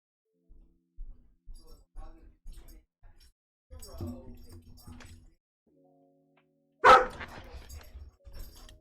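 Dogs let out a series of short barks, mostly quiet and fairly close, with one sharp, loud bark near the end and faint clinking sounds between them.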